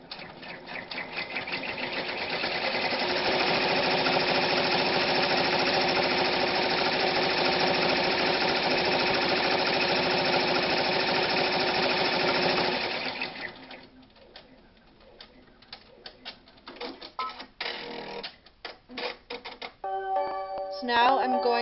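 A sewing machine runs a placement (tack-down) stitch through fabric laid over a backing, a loud, fast, continuous mechanical whirr lasting about thirteen seconds, then stopping, followed by quieter clicks and handling noises.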